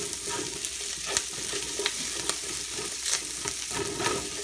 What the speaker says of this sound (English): So it's going to render some of the fats from the pork or the brisket